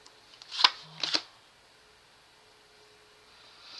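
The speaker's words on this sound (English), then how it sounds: "I'm going to shuffle again because it's not giving." A deck of cards is shuffled in two quick riffling bursts, close and crisp, then quiet with faint room hum.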